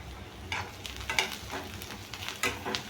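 Turmeric and salt stirred in a frying pan for mung dal bhaji, with soft scraping strokes and a faint sizzle recurring in a loose rhythm, close and quiet with no talk.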